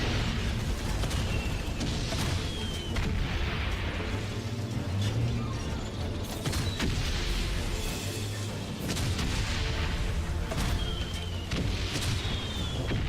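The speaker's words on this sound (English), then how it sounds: "They will blow up your tank. So you have to shoot them to get through." A tank firing at landmines in the video game Valiant Hearts, a dense, continuous mix of booming shots, bursts and rumbling machinery, loud throughout with no clear pauses.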